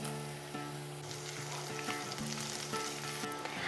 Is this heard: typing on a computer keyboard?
no